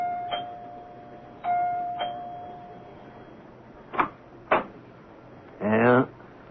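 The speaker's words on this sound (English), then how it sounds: "Dr. Lem Regan rings the doorbell of Clyde Wilkins' house" A doorbell rings at the door of a house in a radio drama, a sustained bell tone followed by a couple of sharp knocks and a brief burst of voice near the end.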